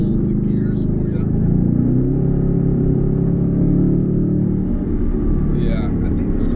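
A 2019 Mustang GT convertible's engine eases up to about 2600 RPM under light throttle, a loud, steady low rumble that swells slightly and holds throughout, with possible voice underneath.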